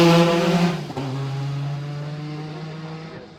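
A Porsche 956 race car at Goodwood passes close and loud, its engine note dropping and then holding a steady buzzing drone as it moves away and fades.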